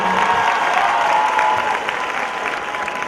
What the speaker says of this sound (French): Si c'est bon, applaudissez très fort.